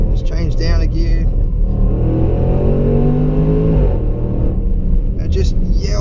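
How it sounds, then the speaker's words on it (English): A 2016 Range Rover Sport SVR engine revs hard through a downshift, a loud, steady, rumbling roar heard from inside the cabin, with a rising sweep midway and a voice talking over it. "The engine and that sound, it's addictive."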